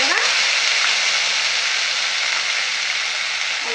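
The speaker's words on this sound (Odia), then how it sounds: "ପିଆଜକୁ ଲାଲ କରି ଭାଜିବା।" Sliced onions and ground spice paste frying in hot oil in a pan for cabbage ghanta: steady, loud, continuous sizzling that fills the whole stretch with no talk.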